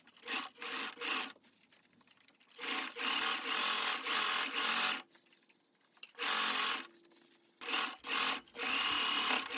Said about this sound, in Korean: 겉과 겉을 마주해서 시접선을 따라서 박음질합니다.